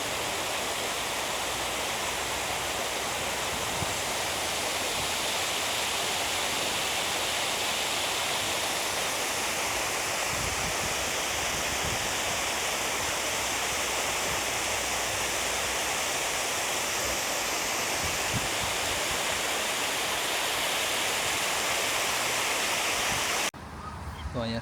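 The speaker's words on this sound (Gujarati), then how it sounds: "તો આવી રીતના ડેમ બાંધેલું છે ને ડેમ ઉપરથી આ પાણી" Water pours over a river dam like a waterfall, a loud, unbroken rushing roar that stays constant and fills the whole stretch before cutting off at the end.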